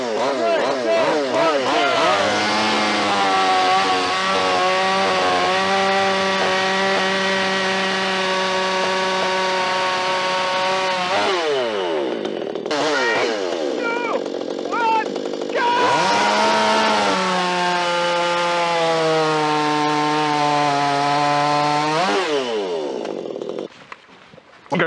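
A budget chainsaw bought from Amazon or Aldi runs loud and close while cutting softwood. It drones through long cuts with the pitch dipping under load, revs up and down between passes, and a voice is heard in places.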